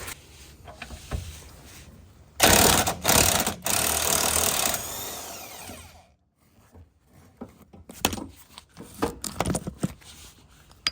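An impact wrench with an 18 mm impact socket works loose the rear shock bolts on a Mazda, giving one loud, rattling burst of about two seconds, then quieter clicks and handling of metal parts.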